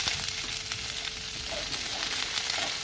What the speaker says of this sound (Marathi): याला आता थोडंसं सॉफ्ट पडेपर्यंत आपल्याला छान परतून घ्यायचं आहे